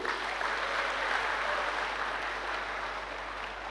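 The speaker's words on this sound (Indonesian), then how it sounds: "Tepuk tangan untuk para guru." Applause for the teachers at a university graduation ceremony in a large hall, a dense, even roar of clapping from a big audience lasting throughout.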